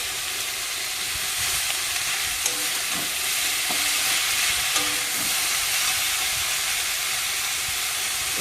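Banana flower frying in a spice masala of green chilli, onion, ginger and garlic paste, a steady loud sizzle with faint stirring clicks throughout.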